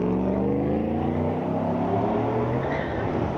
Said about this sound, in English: Now listen to this truck.